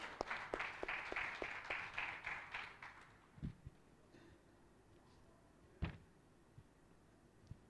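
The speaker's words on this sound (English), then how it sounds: "Please, let's give them a hand of applause as I take my seat." A small audience applauds panelists at a smart infrastructure discussion, a few seconds of distinct, quick hand claps that thin out into scattered single claps, with a faint voice near the end.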